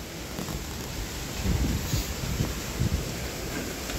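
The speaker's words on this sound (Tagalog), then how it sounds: "Diyos ko, grabe kalakas ang hangin." Strong wind buffets the microphone in a continuous broadband roar with gusty surges, loud and close, with no other clear sounds.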